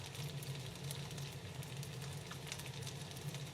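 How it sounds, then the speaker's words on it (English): Onions frying in a pan for homemade pierogi, giving a steady, faint, even sizzle with soft crackles and no talking over it. "So I am going to cook up some onions"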